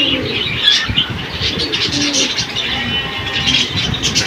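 Silver pigeons coo and flutter close by, soft repeated calls layered over busy rustling and faint chirps.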